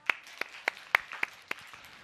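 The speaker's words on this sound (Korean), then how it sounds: "박수 한번 주세요" A small church audience claps in a thin, scattered burst of about six distinct claps, faint and sparse rather than full applause.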